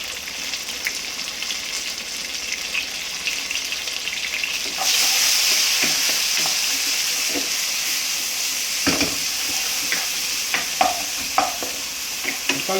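Chopped tomatoes go into a hot pan of golden-browned onions for a vegetarian pulao. A loud hissing sizzle bursts in partway through and keeps going, broken by sharp clacks and scrapes of a stirring spoon close by, with no talking.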